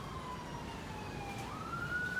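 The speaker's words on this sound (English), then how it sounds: "I hear the ambulance" An ambulance siren wails somewhere in a neighborhood, a steady fairly faint tone that dips and then climbs higher as it passes at a distance, heard alone with no talking over it.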